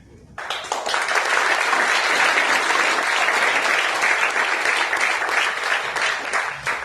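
Sudden burst of audience applause at a Modicare talk, starting abruptly and holding as a loud, dense wash of clapping before tapering slightly near the end.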